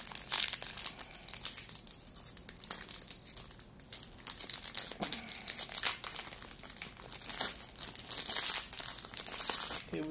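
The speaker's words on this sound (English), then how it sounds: "I recently bought 4 packs of the Yu-Gi-Oh! Epic Dawn Bow Pack. So I'm going to open them" A Yu-Gi-Oh Battle Pack: Epic Dawn trading card booster pack is torn open, its foil wrapper crinkling and crackling in close, uneven bursts for several seconds without any speech.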